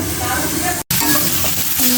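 Vegetables frying in a pan with salt, turmeric and chili powder, a loud, close, continuous sizzle mixed with stirring scrapes, broken by one very brief cut.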